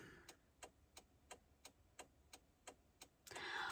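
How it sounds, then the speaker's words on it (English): A car's hazard flashers tick steadily at the roadside, about three sharp, even clicks per second over a quiet background, followed by a swelling whoosh of traffic passing near the end. "I've been listening to this darn, sound of my flashers."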